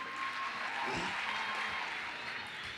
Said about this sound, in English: let's just clap our hands and welcome them